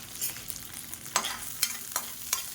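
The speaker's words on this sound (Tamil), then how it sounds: "இப்போ எல்லாத்தையுமே நல்லா வறுத்துக்கலாம்." Dried red chillies, green chillies and ginger fry in hot oil, a soft steady sizzle broken by several crisp scraping strokes of a spoon stirring the pan.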